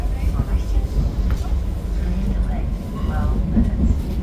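Passenger train running steadily just after leaving Gdańsk, a continuous low rumble and rolling noise heard from inside the carriage, with faint murmuring voices in the background.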